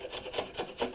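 A hand plane takes a single shaving from twisted, curly white oak, giving three or four rhythmic rasping strokes close by, each a short dry swish of blade across wood.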